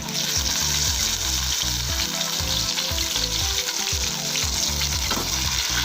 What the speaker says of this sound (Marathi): कढीपत्ता टोमॅटो आणि कांदा ते तेलामध्ये आपण व्यवस्थितपणे परतून घ्यायचं आहे